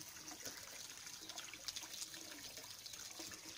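Clean spring water runs and trickles from a well or source and falls in splashes, a faint continuous watery rush with small droplet patters, no voices present.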